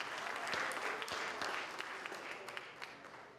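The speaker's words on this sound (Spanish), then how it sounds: "vamos a darnos un aplauso todos" Audience at a Venezuelan energy conference applauds steadily, a dense wash of clapping that fills the room and slowly thins toward the end.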